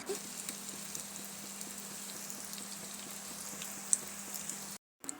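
Cornflour-coated chicken pieces frying in hot oil for chilli chicken, a steady soft sizzle and crackle with faint pops, fairly quiet and continuous before cutting off near the end.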